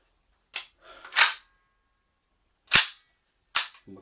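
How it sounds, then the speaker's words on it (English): Sharp, loud shots from an SRC AKS74u gas blowback airsoft gun test-fired with two BBs, four distinct cracks at uneven spacing with short mechanical rattles between, no talking. "We've got 2 BBs in our mag and we're going to test fire it."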